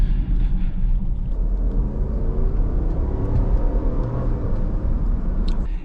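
Engine of a 2020 Jeep Grand Cherokee Limited X while driving, a steady low rumble with road noise that holds evenly throughout, close and fairly loud.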